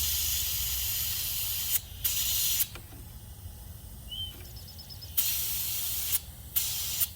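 Loud, steady hiss of 110 psi compressed air from a portable compressor blasting into a Polaris Indy 680 snowmobile fuel tank, cut by several short pauses, with a faint high whine during the quieter middle stretch.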